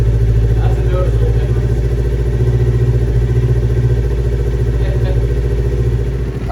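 Close, steady idle from a 2022 Kawasaki Ninja 400 with an Akrapovic slip-on exhaust, a deep pulsing rumble that holds constant and dips slightly at the very end.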